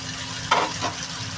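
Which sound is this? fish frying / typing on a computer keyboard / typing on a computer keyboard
fish frying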